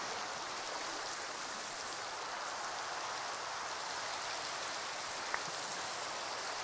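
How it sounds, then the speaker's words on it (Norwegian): Steady rain falls in the Minecraft video game, a continuous even hiss of drops at moderate level with no voices over it. "Det har vært regn."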